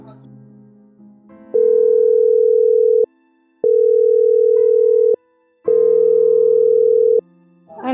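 An unanswered telephone call gives a busy tone: three long, loud, steady beeps separated by short silences, with faint background sound before the first beep.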